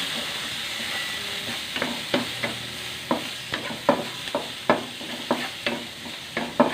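Garlic, eggplant and ginger stir-fry in oil in a pan, with a steady sizzle broken by repeated scraping strokes of a spatula, close up, in an irregular rhythm.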